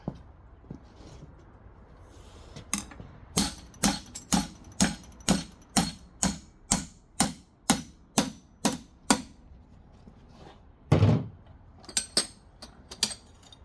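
Hammer strikes ring out during cosmetic and battery box work on a pink Jeep: a steady run of about a dozen sharp, evenly spaced metallic blows, close and loud, followed by a pause, a heavier thud and a few final quick taps.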